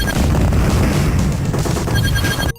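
Dense, continuous electronic gunfire and booming blasts from the Terminator 2 arcade game roar loudly without pause, a harsh barrage of shooting that cuts off at the end.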